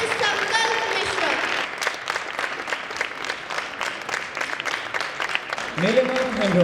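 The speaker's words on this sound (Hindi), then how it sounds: "तालियां तालियां तालियां" Applause from an audience at an evening event honoring contributors, a dense steady patter of many hands running throughout, with voices and cheering mixed in under it.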